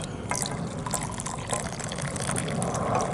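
Freshly boiled water poured from a camp stove pot into a container at a catfishing camp, a steady close splashing gush running alone throughout.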